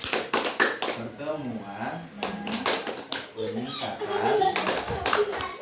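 A group at a parenting-skills training session performs the Tepuk P2K2 clapping chant, with sharp bursts of claps in rhythmic sets between chanted lines of speech, close and lively.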